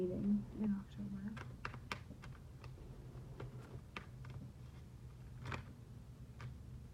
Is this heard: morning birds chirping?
no